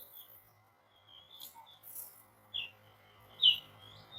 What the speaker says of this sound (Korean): 병아리. 청개 병아리.